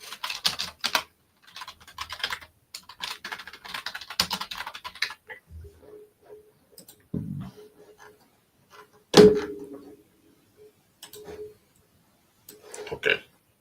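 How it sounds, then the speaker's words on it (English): Typing on a computer keyboard, close and quiet, in short irregular bursts of key clicks with pauses and a few louder thumps. "Let's type in Lawrenceville."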